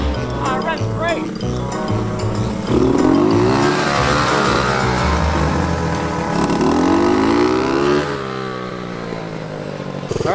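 A 40-year-old Honda Trail 90 motorcycle left in a barn for decades runs loud and close on a ride, its small engine droning and revving up and down steadily while a person talks over it.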